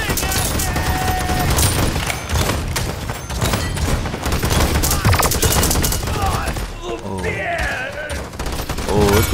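Rapid gunfire and booming blasts from a blunderbuss in the online shooter Paladins fill the stretch, loud and nearly continuous, with a player talking in bursts over the chaotic shots and effects.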